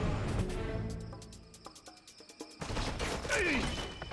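Rumbling explosions and crashes from a bombing run in the video game Command and Conquer: Red Alert, loud at the start and end with quieter clattering game sounds and short beeps in between.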